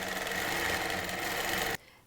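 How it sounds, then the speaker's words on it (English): A long-arm quilting machine runs a steady test stitch along the edge of a T-shirt quilt, a close, continuous buzzing hum that stops abruptly near the end. "The first thing I do before I start sewing is I test the stitch on the edge of the quilt."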